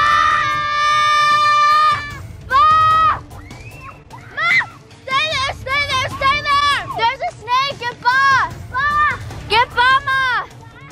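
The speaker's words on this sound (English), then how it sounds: "On three, you're gonna scream." Several children scream together at a backyard trampoline, loud and close, in two bursts of shrill, overlapping shrieks with brief gaps between them, with no talking.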